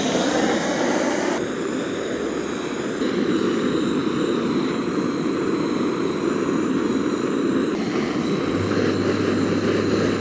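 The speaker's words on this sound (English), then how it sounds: "So let's start torching some weeds." A weed torch burning weeds in a lawn gives a loud, steady roaring rush of flame that continues without break, close and dense, with small shifts in tone as the torch moves.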